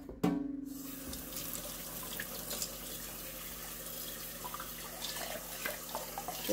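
A water filter housing being rinsed under a running sink tap, with a steady splashing stream after a brief opening clunk, continuous and fairly close with no talking.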